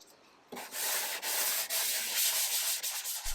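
Hand sanding on the wood of an Art Deco chest of drawers gives close, rough, scratchy strokes in a steady back-and-forth rhythm, with short breaks between passes after a quiet start.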